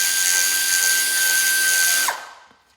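A power tool drives fasteners snug on transmission couplings during a Cub Cadet 2181 Super Cub transmission install, whining at a steady high pitch for about two seconds before spinning down, with a final faint click, close and loud with no talk.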